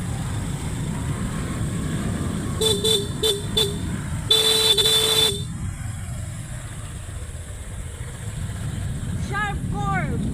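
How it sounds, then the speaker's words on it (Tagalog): A vehicle horn sounds on a sharp mountain curve on a road in Las Navas, Northern Samar: three short toots, then one longer blast, over a steady engine and road rumble. "Kailangan panay busina ka dito."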